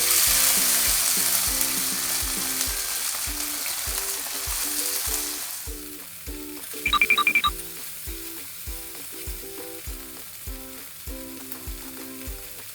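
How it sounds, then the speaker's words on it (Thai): Loud hot-oil sizzling as mole crickets fry in a pan fills the start, then settles into quieter crackling with rhythmic stirring knocks and a brief metallic rattle midway. "ตั้งกระทะใส่น้ำมันรอให้ร้อน แล้วก็ใส่แมงจอนลงไปนะครับ"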